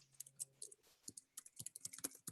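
Rapid, irregular clicking of computer keys during online registration, close and crisp, with quick bursts of taps and short pauses and no talking.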